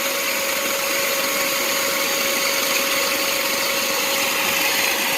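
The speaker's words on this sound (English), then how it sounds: "I'm gonna leave the vacuum on." Shop vacuum hooked to the condensate drain line of a Goodman 14 SEER 1.5-ton air conditioner, running as a steady, even motor whine and rushing hum that holds constant throughout with no talking.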